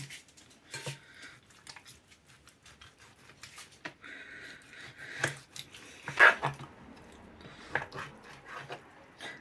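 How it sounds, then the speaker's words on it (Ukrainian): Knife cutting meat into pieces for plov, with irregular scraping and tapping strokes and clinks on a board, close and moderately quiet, with no speech. "Нарізаємо наше м'яско."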